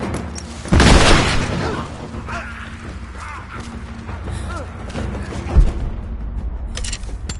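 A loud in-game explosion erupts in Rise of the Tomb Raider's Baba Yaga DLC, a single heavy blast near the start followed by a lingering rumble, gunfire clatter and a second smaller thud later, with combat voices talking over the scene.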